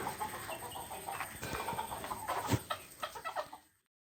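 Native hens and fancy breeds, including Polish cap and Fayoumi chickens, cluck in scattered, overlapping bursts close by on a Malappuram farm, with sharp peaks near the end before the sound ends.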